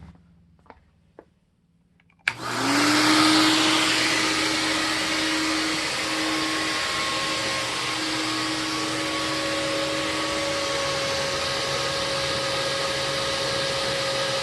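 A TriStar CXL vacuum cleaner with a tight hose switches on after a few soft clicks, then runs loud and close with a steady whining roar and tonal hum that hold for the rest of the clip.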